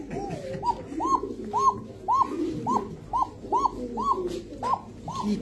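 A racing pigeon held in the hand, of the Koka breed, coos in a thin voice, about ten evenly spaced rolling coos close up, with faint background noise between them.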